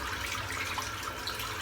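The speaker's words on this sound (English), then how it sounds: "Let's put a bit of water in the sink." Water running steadily from a tap into a bathroom sink before wet shaving, a continuous close hiss and splash with no pauses or talking.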